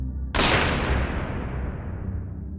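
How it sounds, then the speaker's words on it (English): A single loud gunshot cracks out suddenly, followed by a long, fading reverberant tail that rolls away over a couple of seconds. "and then a gunshot rang out"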